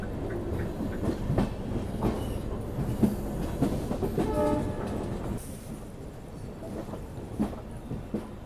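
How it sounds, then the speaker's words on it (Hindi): The Sangam Express rolls into Moradabad Junction with a dense, steady rumble of carriages on the rails, a horn sounding briefly near the middle and rattling clatter throughout. "अपना अराइवल हो रहा है मुरादाबाद जंक्शन रेलवे स्टेशन पे, और ट्रेन यहाँ पे थोड़ा बिफोर टाइम पहुँच रही है"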